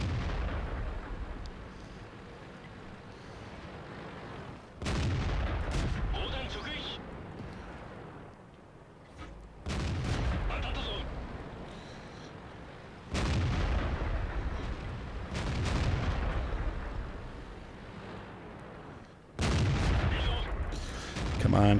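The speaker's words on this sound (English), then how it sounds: "Their artillery's got a good beat on us here." Artillery fire in the tank battle game World of Tanks: heavy, loud booms land roughly every three to five seconds, each a sharp blast followed by a rumbling decay, over continuous battle noise.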